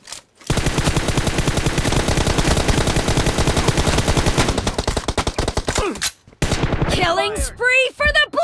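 Sustained automatic fire from an M416 rifle in PUBG, a loud rapid stream of shots for about six seconds, then a brief gap and clipped game voice announcements over more scattered shots.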